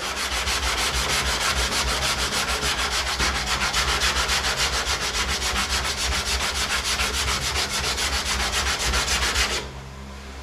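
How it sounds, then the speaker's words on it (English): Fresh 80-grit sandpaper on a sanding block scrubs body filler on a car body panel, a loud, continuous rhythmic rasping of quick back-and-forth strokes that stops abruptly near the end. "With this nice fresh 80 grit, it's blocking, it's taking the filler off super fast anyway."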